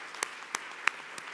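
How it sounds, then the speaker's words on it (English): Scattered audience clapping at a YWCA 30th anniversary celebration: four sharp, separate claps at an even pace over a quiet room tone. "we should give ourselves a round of applause for that"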